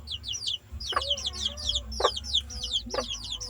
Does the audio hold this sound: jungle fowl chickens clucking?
yes